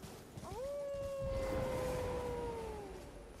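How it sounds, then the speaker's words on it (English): A long, rising-then-sustained howl from the video game Elden Ring, one drawn-out wavering cry with harmonics that slowly falls away near the end, heard fairly loud with no talking. "The howling always helps."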